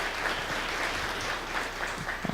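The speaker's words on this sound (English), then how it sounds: "Would you join with me in giving Murphy Robinson and his entire team of General Service a round of applause?" A crowd claps for a city's general services team at a business opportunity fair, a steady roomy patter of many hands that thins slightly near the end.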